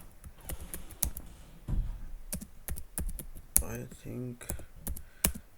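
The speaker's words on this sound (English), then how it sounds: "I'm typing something wrong." Computer keyboard typing in quick irregular bursts of clicks and key taps, close and fairly quiet, with someone briefly speaking between keystrokes.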